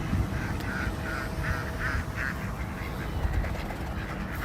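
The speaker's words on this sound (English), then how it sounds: "well, the ducks are hungry." Hungry ducks quack in a rapid series of short calls near a greenhouse feeding area, set against a steady background hum and distant noise.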